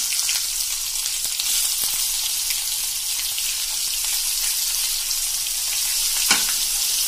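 Two to three medium onions, freshly chopped, frying in a pan over a medium flame: a dense, constant close sizzle with faint scattered crackles and no speech.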